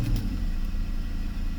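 Mercedes 600SL engine running with a throttle fault check, a loud, steady, close-up low rumble that holds evenly throughout.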